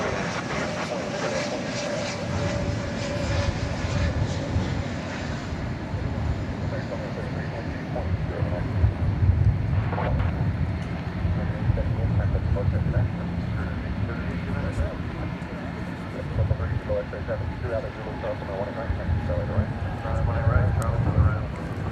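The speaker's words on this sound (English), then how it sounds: "Spirit Flight 3704 arriving from Kansas City. Airbus A320 Neo." A Spirit Airbus A320neo arriving at DFW Airport from Kansas City gives a long, loud jet-engine roar that swells and eases over about twenty seconds, with wind buffeting mixed in.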